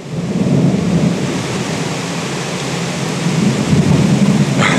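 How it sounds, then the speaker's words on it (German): Deep rolling thunder rumbles steadily through a Berlin rainstorm, swelling louder toward the end, with the hiss of rain constant underneath. "Hört ihr, wie es donnert?"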